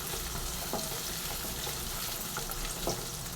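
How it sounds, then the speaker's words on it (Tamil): Small onions sautéing in oil for a tamarind onion curry, giving a steady close sizzle with faint stirring clicks throughout, no voices. "நல்லா வதங்கட்டும் சின்ன வெங்காயம்."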